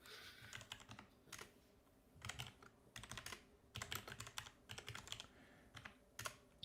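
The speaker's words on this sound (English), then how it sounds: "for my loud mechanical keyboard" A loud mechanical keyboard clacks in quick bursts of typing, with short pauses between runs of crisp key strikes, close up and heard alone.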